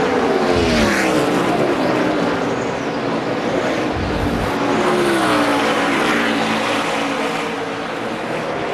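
NASCAR race cars roar around the track during a long green-flag run at the 2004 MBNA America 400, a loud, continuous engine drone with cars sweeping past in overlapping waves.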